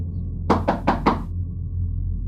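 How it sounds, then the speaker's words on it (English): Four quick, evenly spaced knocks rap on a window, sharp and fairly close over a steady low hum in a quiet room at night. "a knock came at my window"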